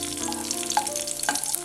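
Raisins sizzle in hot ghee for biryani, a brief close, steady frying hiss with small crackles and a light stirring clink.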